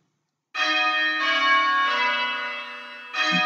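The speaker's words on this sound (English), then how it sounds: "We've got the correct bell ringing there." A church bell rings during a bell-ringing practice session, with loud, sustained metallic tones that hold and slowly fade before a fresh strike sounds near the end, with no voices present.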